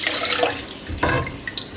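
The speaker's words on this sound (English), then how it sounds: "Put the last of the broth in and we'll continue to stir." Broth is poured into a pan on the stove, a continuous splashing liquid pour with a brief louder gush near the end, close and without talk.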